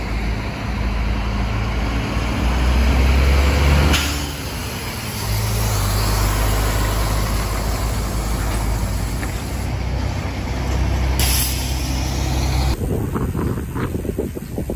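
Heavy trucks labouring up a steep zigzag mountain road in Dupax Del Norte, Nueva Vizcaya: a loud, continuous low engine rumble, largely buried under strong wind buffeting on the microphone, with abrupt shifts in the noise partway through.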